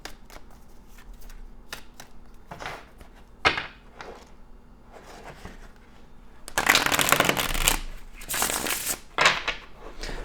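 A Gilded Tarot deck is shuffled in quick riffles and soft taps, first in short bursts and then in a louder, sustained shuffle near the end.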